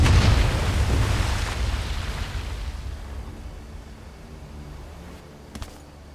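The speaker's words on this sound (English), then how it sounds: "That explosion got the attention of all the German patrols in the area." Explosion in the Medal of Honor VR war game: a heavy, booming rumble that starts loud and slowly fades over several seconds, followed by a small sharp pop near the end.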